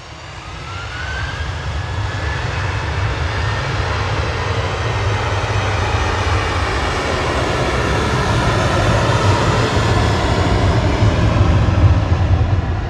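A Ryanair jet airliner sits at Manchester Airport on a chilly day with de-icing fluid on it, giving a steady, dense engine rumble and hiss that grows slightly louder over the clip, heard alone without speech.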